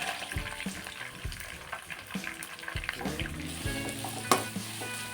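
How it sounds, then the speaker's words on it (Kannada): Chopped onions fry in a pan for vangibath gojju, giving a soft sizzle with scattered clinks and scraping from a utensil and one sharper knock near the end. No one speaks. "ಆ ಈರುಳ್ಳಿ ಹಾಕ್ಕೊಳ್ತಾ ಇದ್ದೀನಿ"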